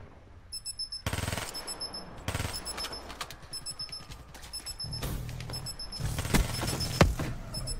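Turret machine-gun fire in the video game Black Ops 3: several sharp bursts of rapid automatic shots over busy game ambience and faint electronic tones, with a dense, louder stretch near the end.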